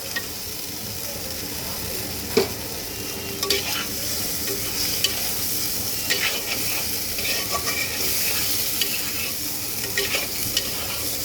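Fried fish being stirred into cabbage and peas in a hot pan, a continuous loud sizzle with scattered scrapes and clinks from the spatula throughout.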